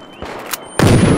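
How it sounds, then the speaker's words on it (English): A grenade blast in the Battlefield Hardline game lands as one sudden loud boom near the end, preceded by quieter clicks and rustling movement. "tossing a grenade!"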